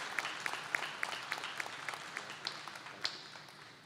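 Crowd applause at a Fall 2020 nursing and health professions college commencement, even clapping from a modest audience, slightly distant, with distinct individual claps popping out and the sound tapering off toward the end.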